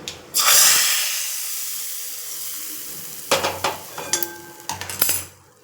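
A hot tempering with asafoetida powder is poured into citron (naarthangai) rasam, bursting into a loud hiss that fades, followed by clanks and scrapes of a metal pan and ladle.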